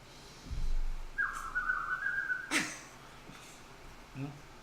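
A small pet bird gives one clear, sustained whistle, then a short sharp chirp, close by against a quiet room with faint low movement.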